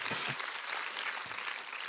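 A church congregation applauds during a Christian sermon, a faint, continuous patter of many hands clapping in a large room.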